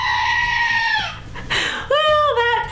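A Screaming Goat Book and Figure toy lets out a loud, drawn-out goat scream, two wavering bleating yells close together at high volume.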